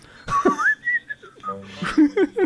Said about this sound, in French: Puis je me mets à siffler.